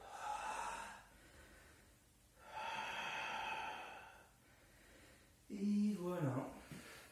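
Slow, deep breaths during a Pilates exercise: long airy inhales and exhales in a steady rhythm, close and soft, followed by a short voiced sound at the end.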